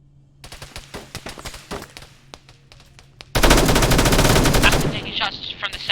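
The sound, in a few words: gunfire in a video game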